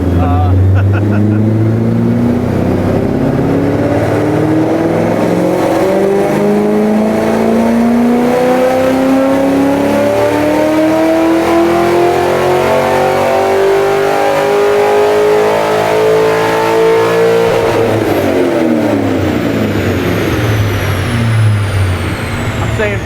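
Car engine revving hard on a chassis dyno, loud and continuous, with pitch climbing steadily through a long pull and then dropping off near the end.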